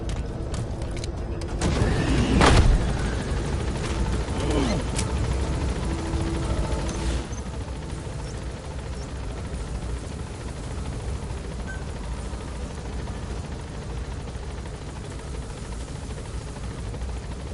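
A gunship helicopter from Metal Gear Solid V: The Phantom Pain flies around in the distance, a steady low rotor drone running throughout with a louder swell and a brief burst near the start.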